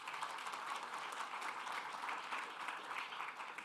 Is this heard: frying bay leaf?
no